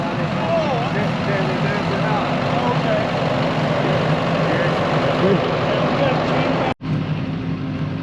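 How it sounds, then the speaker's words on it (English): A large tractor's engine runs steadily in a continuous close rumble with a dense mechanical drone, broken by one abrupt dropout near the end. "tractor is here, guys"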